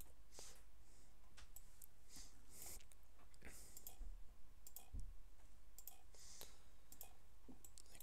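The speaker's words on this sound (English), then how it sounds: "Okay, so I'm just clicking all the sharp points." Quick computer mouse clicks tap out at an irregular pace during 3D modelling work on a pencil topper, faint and close over a quiet room.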